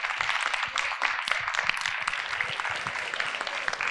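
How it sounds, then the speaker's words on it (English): An audience at a speaking event gives a round of applause, dense, steady clapping from many hands filling the room for several seconds without voices. "Round of applause for her."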